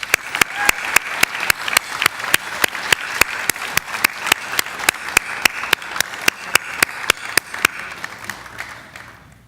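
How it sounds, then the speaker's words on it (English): Applause from the audience at the 2018 Youth Human Rights Awards ceremony, a dense, lively round of many people clapping that carries on steadily for several seconds before starting to taper off. "Please give them a round of applause."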